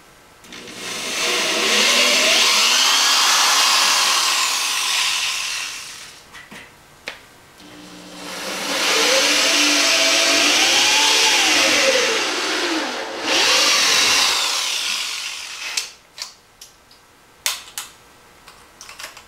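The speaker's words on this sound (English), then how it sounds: "So we're just going to go ahead and drill our first hole" A power drill bores holes for a vinyl record shelf in two long, loud bursts, its motor pitch wavering under load, followed by a third shorter run and a few sharp clicks and knocks.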